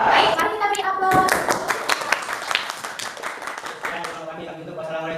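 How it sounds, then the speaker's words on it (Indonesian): Applause from a classroom audience after a presentation, a dense patter of hand claps that gradually thins, with voices chattering underneath. "mari kita beri aplaus"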